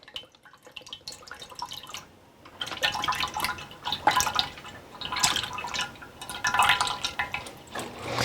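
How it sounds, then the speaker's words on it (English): Liquid egg whites pour from cartons into a casserole dish, first a quiet trickle, then a louder glugging, splashing stream that surges and eases in waves, with no talking. "I just pour in the egg whites"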